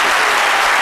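An audience claps in a dense, loud burst of applause at a cultural event in Nuremberg honouring Côte d'Ivoire. The clapping is brief and steady, with no voices over it.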